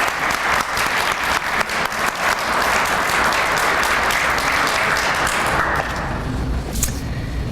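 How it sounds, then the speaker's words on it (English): An audience at a 2014 basketball hall of fame press conference claps in steady, sustained applause throughout, dense and close, fading slightly near the end. "Let's have a big round of applause."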